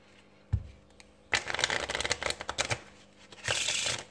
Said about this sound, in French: je vais bien évidemment mélanger les cartes à l'américaine pour foutre le bordel dans les cartes